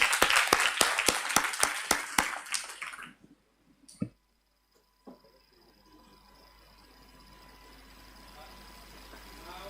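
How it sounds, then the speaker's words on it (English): Applause from a modest audience at an international phytotechnology conference, a few seconds of distinct, fairly sparse claps that stop abruptly, followed by a single clap and faint room noise. "please now have a round of applause for our co-chairs for excellent job"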